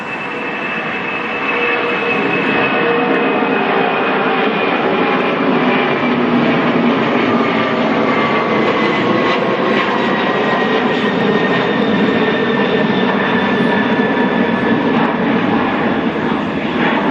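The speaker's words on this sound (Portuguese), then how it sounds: "vamos embarcar no avião e vamos seguir" Propeller or jet airplane engine drones steadily and loudly throughout, a sustained roar with a slowly shifting whine as the aircraft takes off and flies, no voices present.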